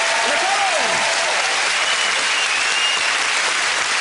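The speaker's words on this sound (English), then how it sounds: "So give them a big round of applause." A studio audience at the All Star Family Fortunes game show bursts into a loud, dense round of applause that carries steadily through the whole stretch, with a brief vocal whoop near the start.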